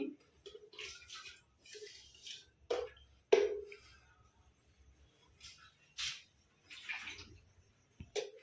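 A new electric kettle being rinsed and washed with water, with faint, intermittent splashes and trickles coming in short irregular bursts and no talking.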